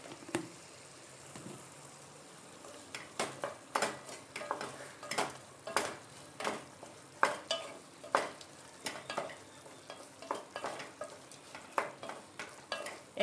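Raw mango chutney mixture, made without coconut, being sautéed in a pan: a soft, low sizzle beneath repeated scraping stirs of the spatula in an uneven rhythm, close and fairly quiet, with no talking.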